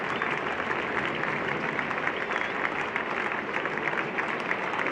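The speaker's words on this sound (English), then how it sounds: "Enthusiastic applause from an excellent crowd here." Crowd at a 1973 England v West Indies Test cricket match applauding a clean-bowled wicket, steady broadband clapping sustained evenly for the full span with no talk over it.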